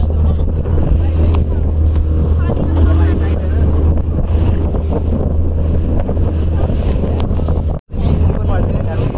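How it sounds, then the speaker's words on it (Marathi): Motorboat crossing the sea off Alibaug toward Kulaba Fort: a loud, steady engine drone and rushing water under heavy wind buffeting on the microphone, with a brief dropout near the end. "आता आम्ही बसलो आहे बोटीत, बघू शकतात, आणि चाललो आहे फोर्टला"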